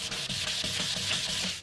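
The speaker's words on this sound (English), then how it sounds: "And now I'm just moving around the paste. Not so much sanding, but just polishing." Steady, close rubbing and scraping as paste is worked over a lightweight carbon fiber rudder blade for a bike-towed dinghy, a continuous abrasive swish with faint rhythmic strokes.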